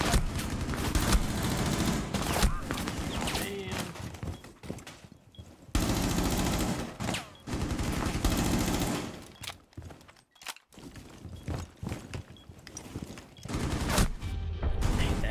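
Dense bursts of automatic gunfire rattle almost nonstop in Rainbow Six Siege, loud and close, with brief pauses between sprays and no voices over the shooting.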